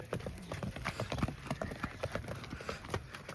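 Rapid, irregular clip-clop of horse hooves on hard ground, steady and fairly close, with faint background noise throughout.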